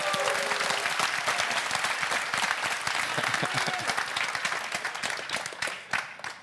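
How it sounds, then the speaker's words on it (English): Audience applause fills a conference hall at a security talk, dense continuous clapping from a full crowd, loud and steady before tapering slightly toward the end. "please applaud."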